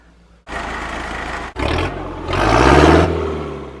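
A sailboat's long-idle engine cranks and roars to life after three years, starting abruptly, cutting out briefly, then revving up louder and steady close by.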